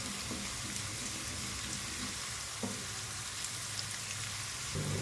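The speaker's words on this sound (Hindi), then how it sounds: "फ्राई करेंगे इसको" Steady sizzling of onion, garlic and cumin frying in hot oil for a dal tempering, close and continuous, with a few soft clinks of a spoon against the pan.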